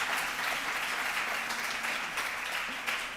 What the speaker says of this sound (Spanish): un aplauso también para la intérprete